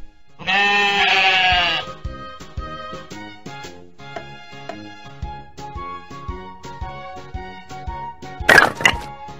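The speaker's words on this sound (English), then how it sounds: "Sheep." A loud sheep bleat at the start, then a run of rhythmic plucked musical notes, with a brief sharp burst near the end.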